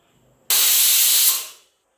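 A pressure cooker cooking mutton biryani releases a single sharp blast of hissing steam lasting about a second, loud and close, then tapering off into silence.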